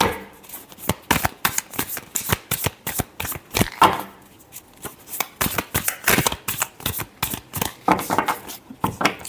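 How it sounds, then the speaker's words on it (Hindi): Tarot cards are shuffled by hand in a rapid series of crisp, rhythmic snaps and riffles, close and fairly loud throughout. "Last shuffle."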